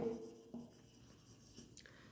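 Pen or marker writing on a board during a math lesson on matrices, faint brief scratchy strokes in a quiet room.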